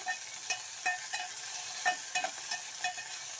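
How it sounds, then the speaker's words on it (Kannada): Tomatoes frying in a pan for sweet corn gravy, a soft steady sizzle broken by a string of sharp clicks and pops, as though a spoon were scraping and tapping the pan, with no voices. "ನೋಡಿ ಟೊಮೊಟೊ ಎಲ್ಲ ಇವಾಗ ಫ್ರೈ ಆಗಿದೆ"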